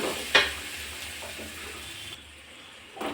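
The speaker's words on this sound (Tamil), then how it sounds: "இதில் ராஸ்மல் போகிற அளவுக்கு நல்லா வறுத்துக்கலாம்" Capsicum and pepper masala frying in a pan for egg rice, a soft steady sizzle with one sharp scrape of stirring near the start and faint pan clinks, close and fairly quiet, with no talking.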